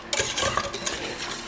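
A whisk scrapes and swirls steadily through eggnog syrup thickening in a pot on the stove, a close, continuous stirring sound with a faint sizzle beneath.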